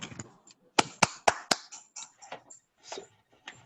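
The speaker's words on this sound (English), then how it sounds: "Could we also give all of them a clap of hands if you can, if you're on video?" Scattered handclaps from a few participants on a video call at a higher-education panel event, several sharp separate claps in an irregular rhythm rather than full applause, fairly close and clear, with a few softer taps and noises between them.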